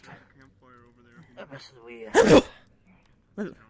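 A sharp, loud sneeze bursts out in the middle of a tabletop role-playing session, set amid quiet conversational talk before and after it.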